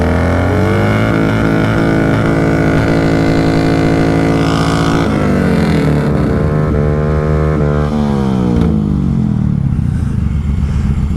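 A Honda Grom motorcycle engine droning loud and close while riding, its pitch climbing and falling through gear changes and revving, steady throughout with no talk.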